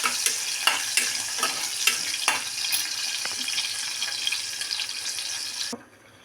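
Spices frying lightly in hot oil in a home kitchen, a steady loud sizzle with crackling pops and stirring scrapes, cutting off abruptly near the end.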